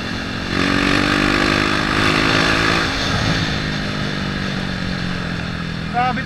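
A KTM RC390 motorcycle engine revs with a loud, buzzy tone that rises and holds, then settles into a rougher drone, close by.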